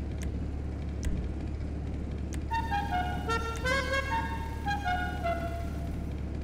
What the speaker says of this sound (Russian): Клаксон.